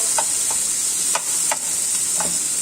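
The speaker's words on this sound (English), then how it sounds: "Chuck in some sun-dried tomatoes. Give them a stir around as well." Chillies and sun-dried tomatoes are stirred in a hot pan for pasta sauce, a steady close sizzle with a few soft scraping strokes of the spoon against the pan.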